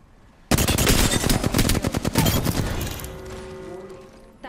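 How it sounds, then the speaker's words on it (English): Rapid automatic gunfire in the Apex Legends game hammers out in a loud burst of dense, evenly spaced shots for about two and a half seconds, then trails off into reverberant echo. "They spotted me. I'm taking shots."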